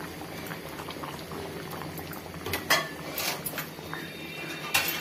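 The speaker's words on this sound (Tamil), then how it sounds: "இன்னும் ஒரு 2 நிமிஷம் குழம்பு கொதிக்கட்டும்" Prawn curry bubbling in a pot, a steady close boil with occasional brighter pops and a few light clinks of utensils, no voices.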